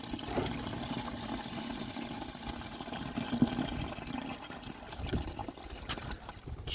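Water runs steadily from a tap over freshly dug home-garden potatoes being washed, a continuous broadband splashing rush at moderate level with a few louder gushes near the end and no talking.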